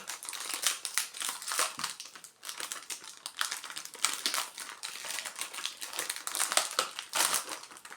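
A crinkly plastic package of chocolate chip and candy-coated cookies being opened by hand, loud close crackling and crumpling in rapid irregular bursts throughout, with no talk.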